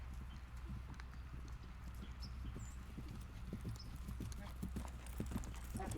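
Hooves of a naughty horse clip-clop at a canter in a riding lesson, a steady rhythmic beat close by, with a person talking over it.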